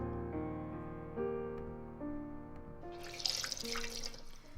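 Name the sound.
water wrung from a soaked towel, Bloody Painter dating sim game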